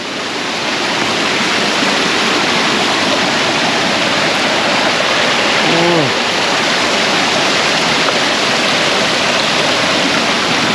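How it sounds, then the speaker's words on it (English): Steady, full roar of a waterfall near an abandoned mining town in New Zealand fills the whole clip, broad and loud, with a brief faint tonal sound around the middle. "There's a full waterfall here."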